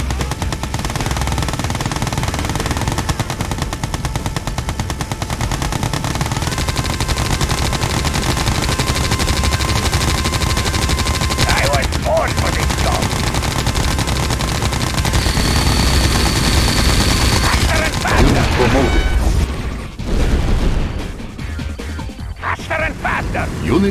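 Machine gun fire rattles loudly and almost continuously through a battle in Red Alert 2: Yuri's Revenge, mixed with other game effects and crashes before a brief dip near the end.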